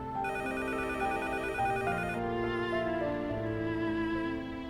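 A telephone rings with a repeated electronic melodic tone in a restaurant setting, loud and close, sounding alone without talk for several seconds.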